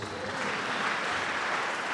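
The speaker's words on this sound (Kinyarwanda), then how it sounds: "Imana ikomerwa amashyi menshi." Applause from a church congregation at a Catholic service, a dense, steady wash of clapping that holds evenly for about two seconds, close and fairly loud with no voices standing out.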